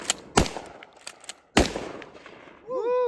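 Two loud, sharp shotgun blasts from an Escort BullTac 12 gauge shotgun, about a second apart, each with a short echoing decay outdoors, followed by a brief rising whistle-like tone at the end.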